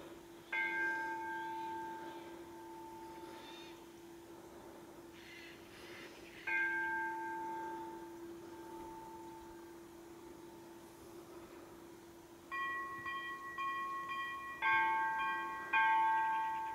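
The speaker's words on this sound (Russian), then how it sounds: "Утренний колокол слышно." A morning church bell rings near a river settlement, with several distant, resonant strikes spaced out over a quiet outdoor background, each tone lingering and fading, no voices.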